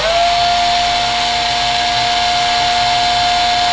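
A cordless drill runs at about 11 volts through a reverse-voltage protection diode, whirring at a constant high pitch, loud and steady throughout without pause.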